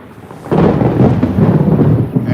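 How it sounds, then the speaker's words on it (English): Thunder rumbles loudly after a quiet opening, a deep rolling roar that swells suddenly and holds steady for the rest of the clip, alone with no voices. "the thunder feel like speaking, so we let it speak"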